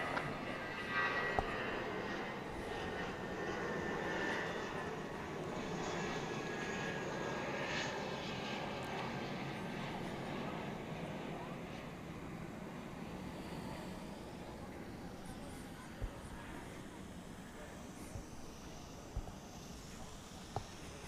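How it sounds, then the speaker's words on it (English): An American Airlines Airbus A319 takes off at night from DFW, a steady broad jet engine roar that slowly fades over about twenty seconds, with radio chatter and talk faint beneath it. "American 2111 to McAllen, Texas, an Airbus A319."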